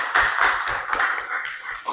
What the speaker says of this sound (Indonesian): Tepuk tangan untuk Zidna kesimpulannya ya